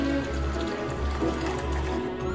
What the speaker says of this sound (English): Then add boiling water.